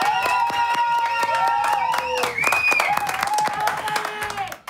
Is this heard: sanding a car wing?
no